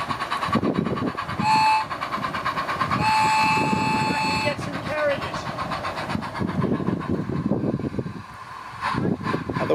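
A gauge 1 live steam model train runs on an outdoor garden railway, chuffing and rattling steadily and close by, with sustained whistle blasts partway through and faint voices nearby.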